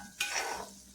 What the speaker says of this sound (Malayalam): അപ്പോൾ ഇത് നമ്മൾ ഒന്ന് ഇളക്കി കൊടുക്കണം കേട്ടോ